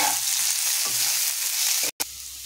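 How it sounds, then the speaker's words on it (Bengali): Chopped onions and green chillies frying in a pan, a steady close hiss of oil with no voices, broken by a very brief dropout near the end. "এবার পেঁয়াজটাকে আমি সুন্দর করে লাল করে ভেজে নেব।"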